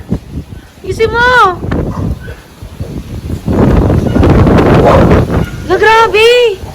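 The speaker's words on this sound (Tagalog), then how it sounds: "Lakas ng hangin!" Gusty typhoon wind (Typhoon Ulysses) rumbles and gusts continuously against the mic while people shout and talk over it.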